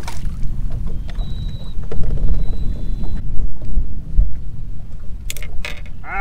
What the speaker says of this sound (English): I wish this was easier without the wind. Wind drives me nuts, folks.